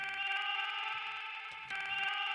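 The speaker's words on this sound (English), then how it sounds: "And that's the time stretch on the Digitact." A voice sample time-stretched by the warp engine of an Elektron Digitakt, coming out as a grainy, buzzing, stuttering tone that holds steady for about two seconds with a brief dip partway through.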